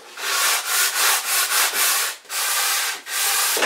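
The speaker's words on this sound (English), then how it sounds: "I think I'll do the bulk of this sanding now" A sanding block is pushed by hand along the edge of a wooden helm cabinet panel aboard a wooden boat, making about eight close, steady scratchy strokes with short pauses between them.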